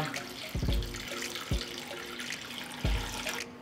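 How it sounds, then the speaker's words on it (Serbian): Water is poured into a pot lined with a cloth and holding jars, arriving in a few distinct gushing splashes separated by short pauses, close and fairly quiet. "I zatim ću sipati vodu u šerpu do visine poklopca."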